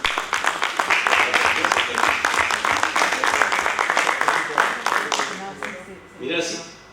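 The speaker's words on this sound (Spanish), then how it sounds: "le agradecemos a Alejandro con un aplauso el esfuerzo de estar aquí presente hoy" Applause from a lecture audience at a poetry talk, a dense run of many hands clapping that thins toward the end.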